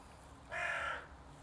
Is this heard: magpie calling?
yes